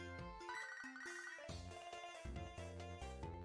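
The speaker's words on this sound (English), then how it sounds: "I got an email. I don't know why it sounded like a phone call" Email notification in the video game Pokemon SoulSilver, sounding like a phone ringtone: a quick melodic chiptune jingle of stepped electronic notes over a busy game soundtrack, playing continuously without talk.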